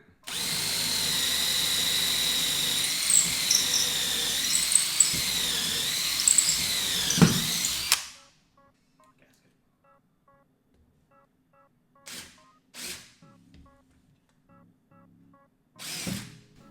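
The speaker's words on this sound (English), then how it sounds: "I'm going to blow a hole through the bench." A power drill bores a hole through a workbench in one loud, steady whine that runs about eight seconds and then cuts off, followed by a few short, quieter bursts of the drill.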